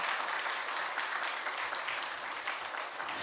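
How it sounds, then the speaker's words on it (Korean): A church congregation applauds in a steady, dense wash of clapping that runs throughout without a break. "박수 좀 해주세요."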